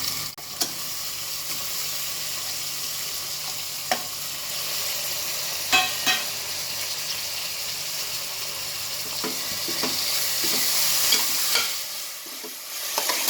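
Tomato and mint sautéing in a pan for mushroom biryani, with ginger-garlic paste already cooking, give a steady sizzle throughout and a few sharp clicks of a spoon against the pan.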